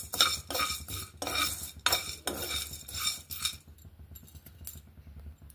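Cumin seeds, fenugreek seeds and urad dal dry-roast in a pan, stirred with a spoon in quick, rhythmic scraping strokes with metallic clinks, close and fairly quiet, before tapering off into near silence.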